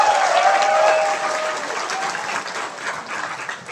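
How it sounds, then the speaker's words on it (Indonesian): An audience at a gathering of drivers claps together in a dense, steady burst of applause that tapers off slightly, with faint voices mixed underneath. "Tepuk tangan dulu."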